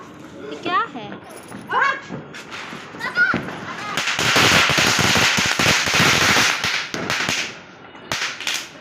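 Firecrackers burst during a Diwali celebration: after voices chatter, sharp nearby cracks give way to a dense, loud crackling barrage, then a few scattered pops.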